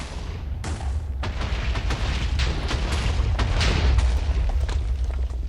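Video game TNT explodes in a dense run of overlapping booms and cracks, giving a continuous rumbling barrage that stays loud for the whole stretch.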